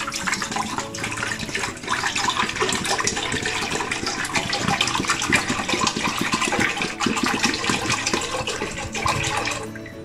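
About 1.5 liters of water runs and splashes steadily into a cooking pot for several seconds, a continuous full pouring sound with no talking.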